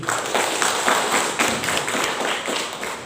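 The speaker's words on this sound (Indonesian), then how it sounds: "tepuk tangan untuk kita semua dulu." A crowd of attendees claps steadily throughout at a village tourism training workshop in Indonesia, a dense, even patter of many hands at moderate loudness without pause.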